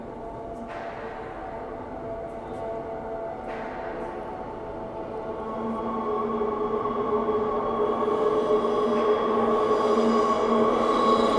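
A Transperth B-series electric train passes on the Joondalup line in Perth, its motor whine and rail rumble building steadily from moderate to loud, with tonal hums and a couple of sharp clicks early on.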